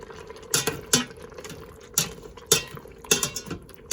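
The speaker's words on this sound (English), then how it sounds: "Give it a stir." A spoon stirs Thai yellow curry chicken inside an Instant Pot, giving a few irregular, close scraping and clinking knocks against the metal pot over a low simmering background.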